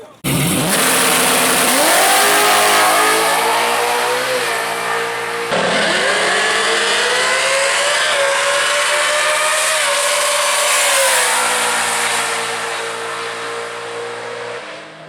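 Drag racing car on a solo pass at World Wide Technology Raceway, a loud engine revving and accelerating hard through rising gear pulls, shifting once, then fading slightly as it heads away.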